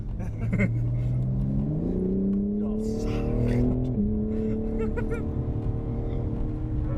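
A BMW M4 on a race track during a track day, its engine loud and steady throughout, pitch climbing through the revs, dipping briefly, then holding high, with faint tire and wind noise around it.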